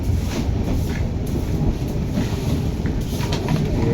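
The Dibrugarh Express runs along the track with a continuous loud rumble and rattle of the carriages, faint rhythmic clacks showing through, heard from on board with no voices.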